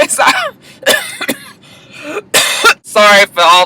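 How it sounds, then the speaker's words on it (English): Several harsh, close coughs and throat clearing in quick succession, with strained, raspy vocal sounds between bursts. "Sorry for all the coughing"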